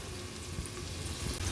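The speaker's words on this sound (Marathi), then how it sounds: "पाहताय ना तुम्ही किती सुंदर प्रकारे आपला कांदा इथे फ्राय होत आहे।" Onion frying in a pan for masale bhat, a steady close sizzle with soft crackle throughout and no voices.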